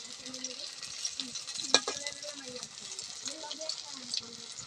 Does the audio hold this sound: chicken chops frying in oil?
yes